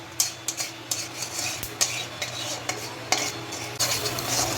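A spice mixture for hing kachori filling is stirred and fried in a pan, with repeated scraping clinks of a utensil over a steady low sizzle, close and moderately quiet.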